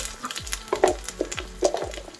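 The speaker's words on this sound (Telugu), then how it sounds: "తాలింపు గింజలండి చిటపటమన్న తర్వాత కరివేపాకు వేసుకుందాం." Short burst of tempering seeds for dal crackling and popping in hot oil, with a few sharp clicks and a low background hum.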